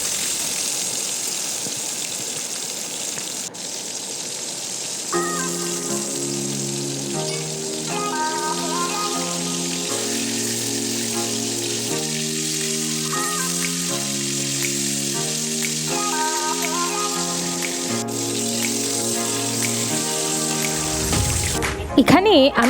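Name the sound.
hilsa fish pieces frying in oil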